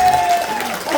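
A brief wash of clapping from a theatre audience at a Balinese drama gong performance, steady and fairly loud, lasting about a second.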